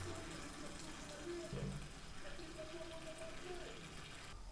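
Water runs and trickles out of household pipes being drained during a renovation, a low steady flow with faint gurgles and brief splashes, fairly quiet and continuous.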